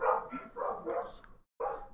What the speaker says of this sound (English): Uh-oh, somebody drove by. The dogs are freaking out.